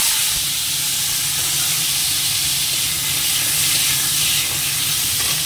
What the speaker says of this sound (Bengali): তো তেলটা গরম বসিয়েছি, আগে আলুটা একটু ভেজে নেব।